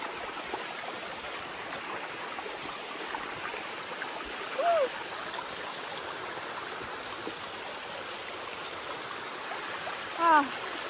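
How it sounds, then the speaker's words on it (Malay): The stream and waterfall at Air Terjun Asahan give a steady broadband rush of flowing water for the whole stretch, with two brief high chirps breaking through near the middle and the end. "Sampai dah air terjun Asahan."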